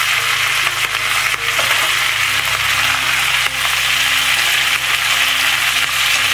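Carrot, capsicum and onion being stirred in hot oil for chilli paneer, giving a steady, loud close sizzle with scraping spatula strokes throughout, no voices.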